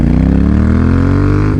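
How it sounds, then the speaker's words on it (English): A motorcycle on a Queensland road filtering between lanes gives a loud, steady exhaust drone right up close, its pitch creeping upward as it accelerates, with no talking. "My exhaust is pretty loud"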